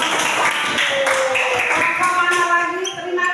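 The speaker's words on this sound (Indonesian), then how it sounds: "tepuk tangan dong" Children clapping their hands in an Indonesian classroom, a burst of quick, close claps with a teacher's voice talking over them.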